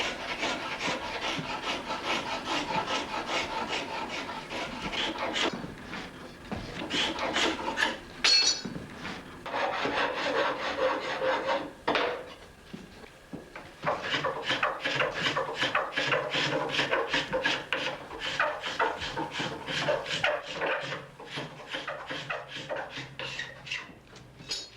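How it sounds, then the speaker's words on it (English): Finishing plane and steel scraper worked over a wooden saddle frame in a pre-electric German workshop, close rhythmic rasping strokes repeating steadily with brief pauses between passes. "the surface of the frame is cleaned with a finishing plane and a steel scraper"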